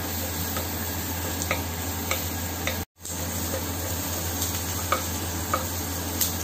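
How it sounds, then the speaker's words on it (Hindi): Roughly chopped onion sizzles in hot butter and refined oil for a Punjabi paneer lababdar, a steady close frying hiss with light scrapes and clicks from stirring and one brief drop to silence midway. "बटर और रिफाइंड दोनों ही रख दिया है, गरम कर लिया है। और अब इसमें हम ऑनियन डालेंगे, रफली चॉप्ड ऑनियन है।"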